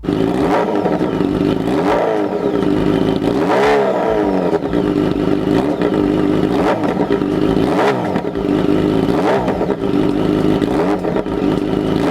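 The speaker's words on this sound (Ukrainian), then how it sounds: "Тож зараз сідаємо на мотоцикл, заводимо його і їдемо" A Yamaha FZ8N motorcycle engine runs loudly up close, revving repeatedly in regular surges every couple of seconds over a steady idling rumble.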